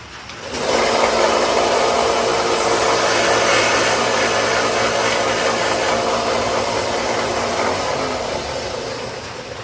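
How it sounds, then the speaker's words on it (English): A power grinder grinds an old knife blade flat, a steady broadband whirring rasp that starts abruptly and holds loud and close for about nine seconds before easing slightly at the end. "So what I got to do now is just grind this flat."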